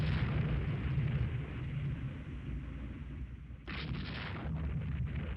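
Naval artillery broadside from warships in Rule the Waves 2, a sustained heavy rumble of gunfire with a fresh sharp burst of shots partway through, loud and continuous with no speech.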